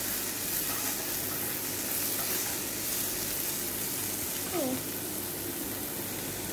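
Kangkong (water spinach) sautéing in a pan, a steady low sizzle and frying hiss throughout, quiet and even, with a faint voice briefly in the background.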